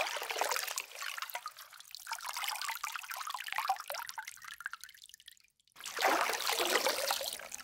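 Water is poured into a glass in a steady trickling stream that rises as the glass fills, pauses briefly, then resumes just as clearly; no one speaks.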